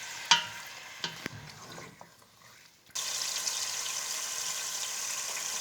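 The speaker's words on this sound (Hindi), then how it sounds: "चिकन को थोड़ा सा फ्राई करने के बाद इसमें मैं लहसुन और अदरक को ऐड कर रही हूँ।" Chicken fries in a pan for dum biryani, with a few sharp utensil clinks and scrapes at first, then a steady loud sizzle that starts abruptly and keeps going.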